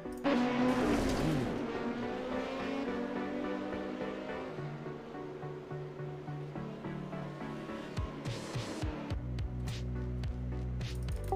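Race cars in the iRacing sim roar and skid as a rejoining BMW slams into others, engines droning loudly with tire squeals and sharp impact bursts near the end.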